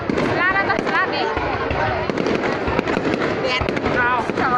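Fireworks bursting at a Dien Bien celebration in 2018, with a dense, continuous crackle of loud pops and booms running throughout while people nearby talk and call out over the noise.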